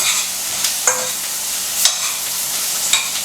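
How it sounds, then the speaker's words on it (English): Spices and flour being stirred into browning vegetables in a pan for shrimp creole, with a steady sizzle and a few scraping strokes of the spoon, close and with no talk. "in go our spices and flour. And we're just going to stir this in very nicely"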